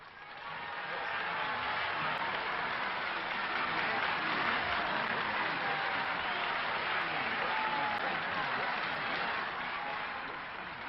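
A large crowd of around 100,000 people welcomes Charles de Gaulle in Cochabamba, Bolivia, in 1964 with sustained, dense applause and cheering that rises quickly and holds steady at a distance.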